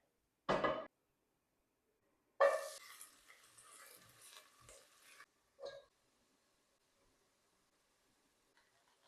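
Broth pours into a hot pan of frying chicken and cabbage, setting off a sharp burst of sizzling that fades over a few seconds, framed by a couple of brief utensil knocks and long quiet gaps.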